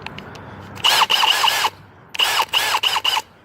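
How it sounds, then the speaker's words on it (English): A Milwaukee M18 Gen 3 cordless hammer drill runs in two close, loud bursts of about a second each, its high motor whine rising and stuttering as the trigger is feathered, with brief quiet between. "Next, the M18 Gen 3 hammer drill."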